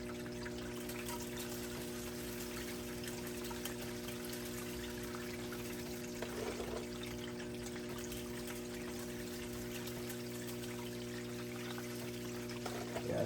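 Water flows steadily down a gold sluice carrying paydirt material, a continuous trickling wash under a steady hum of a pump motor, with brief splashy surges.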